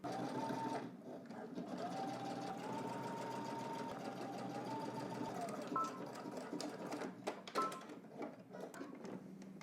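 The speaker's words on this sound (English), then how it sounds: "the only thing we have to do is go on the inside a 1/4 inch and then just follow all the way around" A sewing machine stitches a quarter-inch seam around a jacket, a steady close mechanical whir with a faint tonal hum that runs continuously and then becomes choppier, with short stops and clicks toward the end.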